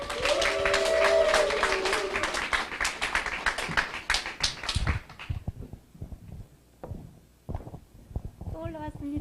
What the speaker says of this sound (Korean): 최선미 사장님을 큰 박수로 모시겠습니다